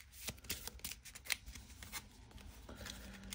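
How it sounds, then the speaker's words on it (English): A deck of playing cards for the Marvel Champions card game is shuffled in quick riffling bursts, close and quiet, with no talking. "Let me shuffle these real quick."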